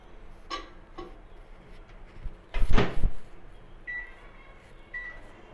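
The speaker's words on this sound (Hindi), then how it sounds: "हमारा माइक्रोवेव 180 डिग्री पे प्रीहीट हो गया. अब हम इसे 10 मिनट के लिए बेक करेंगे." A microwave oven preheated to 180 degrees bakes a cherry oat bar: a sharp clunk like the oven door shutting, then two short, clear electronic beeps a second apart in a quiet kitchen.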